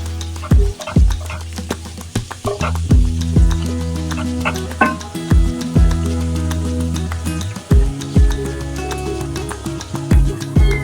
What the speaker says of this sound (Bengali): তেলটা খুব ফুটতেছে এবং খুব সুন্দর ভাজা হয়ে আসতেছে